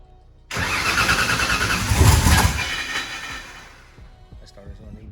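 A turbocharged engine fires up for its first start, bursting into a loud, rough roar from near silence, surging hard, then easing back to a lumpy idle as it fades.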